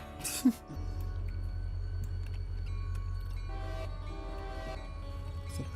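In the Railroader video game, the Alarka Rambler train rolls in with a steady low engine rumble after a brief horn-like toot, with faint metallic clanks and rattles over the drone.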